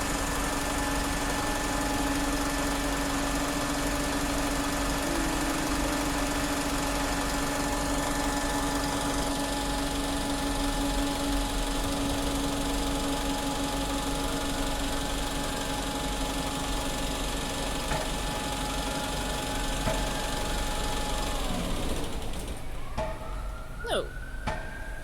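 Red and dark maroon Streetlight bus 47429 runs with a steady, continuous engine drone throughout, a low idle hum with tonal whine, then a shift and clatter of movement near the end.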